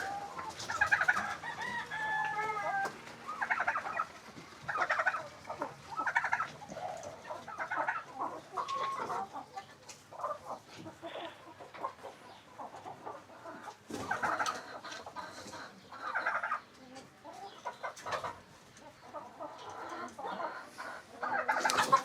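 Hens cluck repeatedly inside a farm coop while a rooster crows, the calls coming in irregular bursts at moderate distance over about twenty seconds, with no speech.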